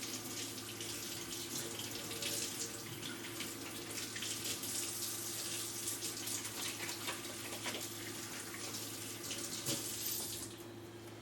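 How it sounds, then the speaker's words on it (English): Hands are rinsed under a running sink tap, a steady close splash of water that continues for the whole stretch without talk and cuts off near the end. "let me rinse my hands real quick"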